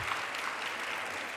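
A dinner audience at Smith College claps in brief, dense applause that sounds moderately close and continuous for its short length.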